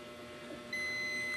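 A multimeter in continuity buzzer mode lets out one steady, loud electronic tone while probing a current sense resistor on an ASUS X515E laptop motherboard with a no-power fault. The beep starts partway through and holds alone to the end.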